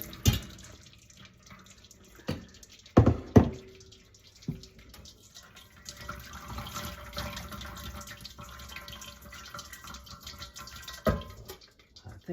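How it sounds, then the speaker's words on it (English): Cooking liquid from Hoppin' John poured off into a bowl, a continuous watery splashing and trickle with a few sharp knocks and clatters from the pot near the start and again near the end. "What we're going to do now is drain off the cooking liquid."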